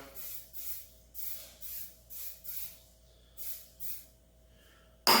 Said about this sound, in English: I just think this is easier because you can just give it a quick spray down.